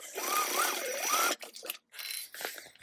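A sewing machine stitching a backpack seam runs in a fast, steady whir for about a second and a half, then stops and gives way to a few short, softer handling sounds.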